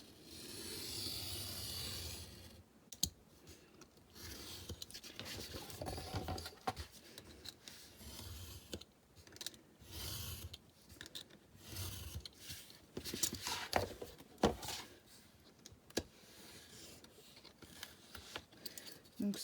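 Paper being cut with scissors while making a scrapbook mini album cover indoors, with rain falling on a roof window, heard as a series of short, close snipping and rustling sounds at an uneven pace.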